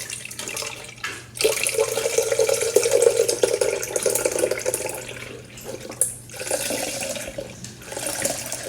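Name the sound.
pouring almond milk into a NutriBullet blender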